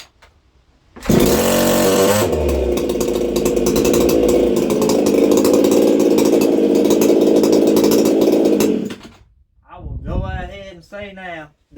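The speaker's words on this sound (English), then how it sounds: "that is the easiest this saw has ever cranked since I've had it" A JonCutter JC7500 chainsaw cranks and catches, then runs loud and close with a rough, buzzing engine note for about eight seconds before cutting out, followed by someone speaking briefly.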